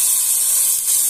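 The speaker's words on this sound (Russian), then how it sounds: "Теперь сюда добавляю воды," Water poured into a hot frying pan of fried carrot and pepper gives a loud, steady steaming hiss and spray that holds for about a second without pause.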